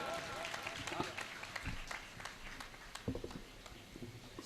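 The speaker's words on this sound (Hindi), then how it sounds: "उनके सम्मान में जोरदार ताली बजाएंगे।" An audience at a Hindi comic poetry gathering gives a round of applause, scattered claps and crowd noise mixed with voices, fairly faint and uneven.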